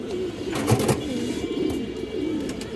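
A pair of silver pigeons coos in low, soft, rolling calls close by, repeating through the moment with a faint airy background and no voices.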